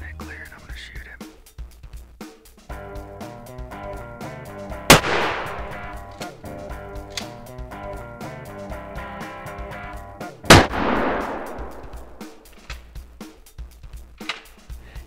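Two loud, sharp shotgun blasts ring out during a spring gobbler turkey hunt in the West Virginia woods, each decaying quickly, separated by several seconds of quiet rustling and faint sounds.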